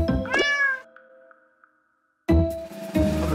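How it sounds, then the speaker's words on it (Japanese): A cat gives two clear meows, one short followed by a longer one, then a pause before a loud, longer meow begins a couple of seconds later. "猫 猫 猫。"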